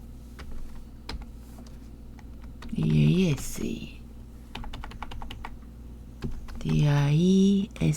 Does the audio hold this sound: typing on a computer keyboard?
yes